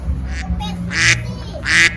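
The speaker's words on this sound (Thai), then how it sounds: "เป็ดร้องไง" A duck quacks a few times close by at a cafe, loud nasal calls in an irregular rhythm over a low background hum.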